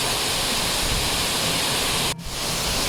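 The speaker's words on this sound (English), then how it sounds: "look how the water cascades down into the beautiful green valley." A hidden waterfall in Jowai, Meghalaya cascades down a slope into a green valley, a loud, steady, close rush of falling water with a brief dip near the end, no voices.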